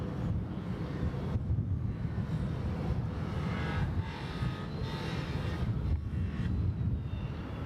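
Ethiopian Airlines Boeing 787-8 airliner at Bangkok Suvarnabhumi Airport, a steady, distant broadband engine roar that rumbles continuously and swells slightly midway.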